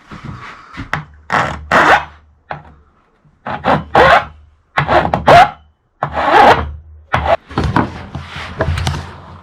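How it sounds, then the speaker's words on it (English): An aluminium sharp edge is filed by hand with a file in long, continuous, smooth strokes, giving a series of close, loud rasping scrapes with short pauses between them. "on a sharp edge with a file, which is really easy to do with aluminium"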